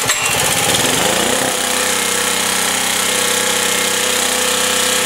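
A Generac G-850 portable generator with a Kawasaki engine runs steadily after a choked start, a loud, close, buzzing drone with a rapid mechanical chatter that holds constant throughout.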